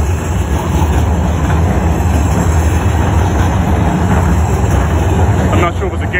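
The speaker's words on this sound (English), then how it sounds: "That's the train right there." A loud, continuous rumble of a passing train by Vivint Arena in Salt Lake City, Utah fills the clip, with a steady roar and a voice faintly mixed in.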